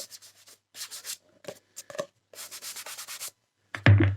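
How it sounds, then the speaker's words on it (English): Short rubbing strokes clean a vintage 1930s Hutchinson crime paperback, a series of dry brushing swipes in uneven bursts with gaps between, ending in a louder scuff, close and alone. "I'm just going to give this one an individual rub"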